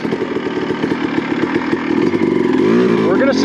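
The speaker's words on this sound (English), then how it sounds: "how low we can idle this bike down, being a motocross bike." A Honda CR250 two-stroke motocross bike with a 10-ounce flywheel weight idles with a steady, burbling put-put that slowly climbs and roughens toward the end, while someone talks over it.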